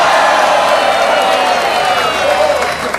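Studio audience on an Indonesian television talk show clapping and cheering loudly, a dense wash of applause with whoops, close and sustained, easing slightly at the end.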